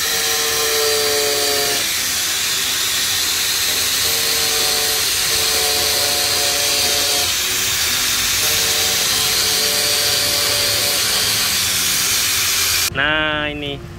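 A loud power tool with a whining motor cuts a part to make room for a VND AK333 shock on a Honda Vario 125, giving a steady hissing grind that shifts in pitch, and a brief rising whine near the end.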